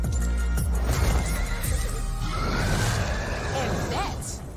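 A horse whinnies in a long, loud neigh that rises and falls, with a faint clip-clop and background commotion underneath.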